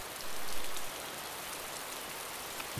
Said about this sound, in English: Oh, it's rain. It's atmospheric.